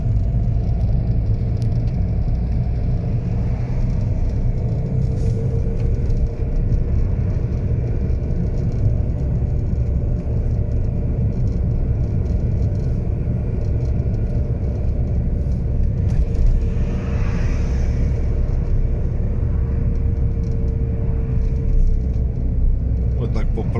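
Car on a road during a driving lesson, shifting into second gear: a loud, constant low engine rumble and road noise throughout, with a voice talking over it.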